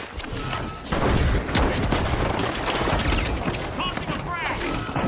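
Frag grenade blast during a Rainbow Six Siege match, a loud boom followed by sustained crackling debris and rumble, with game effects continuing over several seconds.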